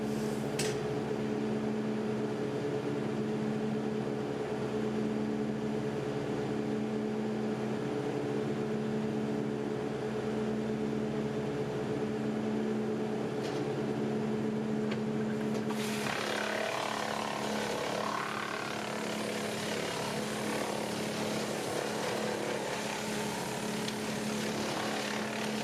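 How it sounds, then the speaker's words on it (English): A Woodland Mills TF810 Pro wood chipper runs off the PTO of a 65-horsepower tractor, a steady droning hum with a strong tonal whine throughout, turning rougher and noisier partway through as material is fed in. "Today I am using my tf810 Pro wood chipper"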